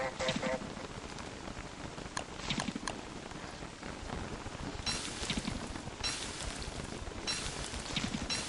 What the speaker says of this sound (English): Second day, rain.